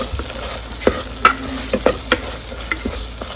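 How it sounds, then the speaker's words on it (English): Chole masala sizzles while being stirred in a Wonderchef Nutripot on saute mode, with repeated close scrapes and taps of the spoon against the pot over a steady frying hiss. "So I'm going to stir it, make it brown"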